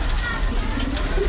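Breeder pigeons cooing close by, soft low throaty coos repeating under a voice talking.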